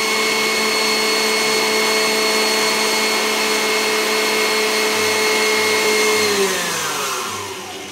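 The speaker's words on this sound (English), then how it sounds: "once the egg whites are stiff, you need to gradually whisk in the sugar" An electric mixer at high speed whisks egg whites and sugar for Italian meringue buttercream, giving a loud, continuous motor whine that holds steady and then winds down near the end, with no talking.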